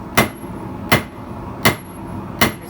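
Four sharp, evenly spaced hammer blows ring out on hot steel while a round punch is forged on an anvil, each strike loud and clear with short decays between.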